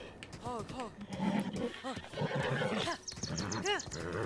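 A horse whinnies in Breath of the Wild, several rising-and-falling neighs repeating over steady game sounds with a quick clip-clop of hooves.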